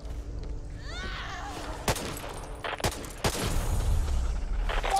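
Gunfire in the zombie shooter Back 4 Blood: sharp separate shots around the two- and three-second marks, then a denser burst near the end, over a constant low game rumble and some sweeping effects.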